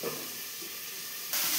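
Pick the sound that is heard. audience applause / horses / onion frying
onion frying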